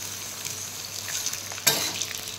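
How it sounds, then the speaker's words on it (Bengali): Fried chicken pieces sizzle steadily in a pan, with soft stirring and one sharp clatter of a spoon partway through. "ভাজা চিকেনগুলো আবারও একবার দিয়ে দিলাম এর মধ্যে,"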